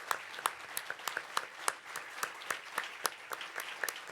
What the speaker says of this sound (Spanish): a quienes les propongo que les brindemos un caluroso aplauso